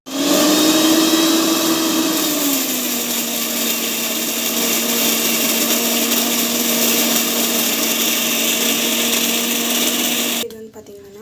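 A kitchen mixer grinder whirs steadily as it grinds mint chutney, its high motor whine dipping slightly in pitch early on, then running loud and even for about ten seconds before cutting off abruptly.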